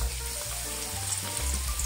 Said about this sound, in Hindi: थोड़ी आधे मिनट के लिए मैं लहसुन को सौते कर लेती हूँ।